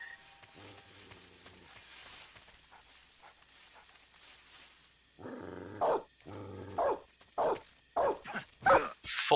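A Doberman in Metal Gear Solid 3 gives a series of short, loud, growling barks in quick succession after a stretch of quieter background sound.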